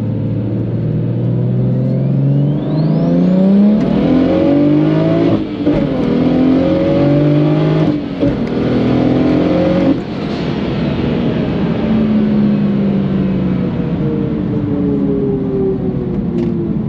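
Tuned BMW 135i accelerating hard on the road, loud engine rising through the revs with several gear shifts, continuous close-up drone with no talking.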